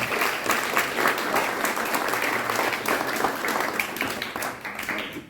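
A crowd applauds at an archery club's celebration of a member's 50 years in the sport in Annet-sur-Marne: loud, dense clapping that holds steady throughout and fades slightly at the end.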